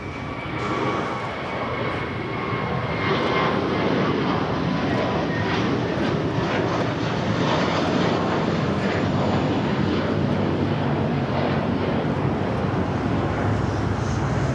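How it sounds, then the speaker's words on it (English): A JetBlue Airbus A321 bound for Fort Lauderdale thunders down the LAX runway on its takeoff roll, a loud sustained jet-engine roar with a whining tone, steady and close from start to finish. "Next takeoff is a flight heading to Fort Lauderdale. JetBlue Flight 100, A321."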